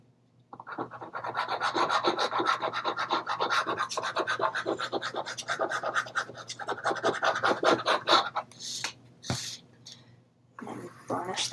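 A folded paper hinge on a jumbo scrapbook album is burnished by hand: close, rapid back-and-forth rubbing and scratching strokes for several seconds, then a few separate short swipes with brief pauses.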